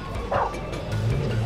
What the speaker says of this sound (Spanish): Solo ladra y me revive